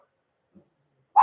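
A single short dog bark comes right at the end after near silence, close and fairly loud, preceded only by a faint tiny sound.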